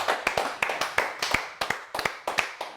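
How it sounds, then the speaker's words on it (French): A small group claps briefly for Bruce Lee at an integrative hypnosis talk. The claps are sparse and irregular, close and distinct, with no talk over them. "Une main d'applaudissement pour Bruce Lee."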